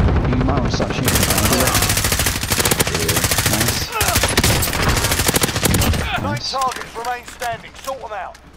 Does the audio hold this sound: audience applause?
no